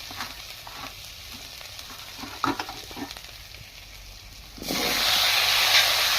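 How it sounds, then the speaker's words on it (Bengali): Eggplant and potato frying in oil give a low crackle with spatula scrapes and knocks, then the hiss surges into a loud, steady sizzle near the end; close, with no talk. "বেগুন আলুটা দিয়ে একটু নাড়াচাড়া করে নিচ্ছি।"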